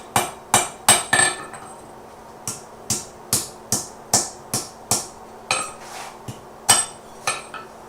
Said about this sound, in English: He just hit my anvil.